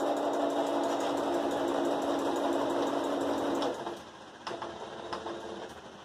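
Sewing machine stitching a hexagonal fabric pot holder, a loud close steady whir that stops partway, followed by a few light clicks and handling noises.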